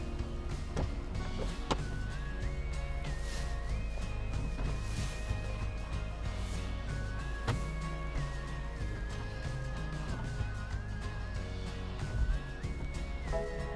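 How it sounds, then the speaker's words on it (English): A 2022 BMW 420d M Sport Gran Coupe Convertible's soft top opening, a steady electric motor whine with stepped pitch shifts and a couple of mechanical clunks as the roof folds, running continuously for over ten seconds. "for opening the soft top, I have to press on the brake and do this again"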